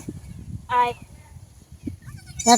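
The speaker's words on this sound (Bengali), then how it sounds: "এই দেখো ছাগলের বাচ্চা" A young goat bleats twice, a short nasal cry early and a louder one at the end, with quiet chatter and background noise throughout.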